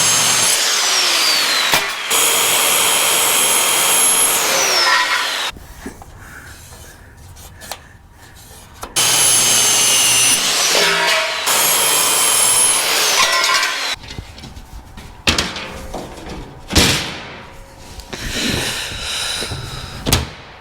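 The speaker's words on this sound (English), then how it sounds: "Does a great job cutting, but it sure is a mess. But like I said, plywood blade is what I like to use." Power saw fitted with a plywood blade cutting aluminum sheet for Land Rover LR4 truck protection plates, loud harsh screeching bursts of several seconds each, separated by short pauses and softer handling noises, close up and alone.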